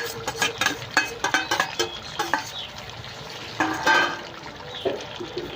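Prawns going into a hot pan of jackfruit curry, with repeated stirring scrapes and a steady sizzle of frying. Bursts of clatter come in irregular clusters, close and fairly loud, and no one talks.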